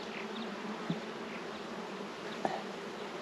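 Honeybees from an opened hive, agitated and testy, drone in a dense, continuous buzz close by, with a couple of faint knocks and no voices.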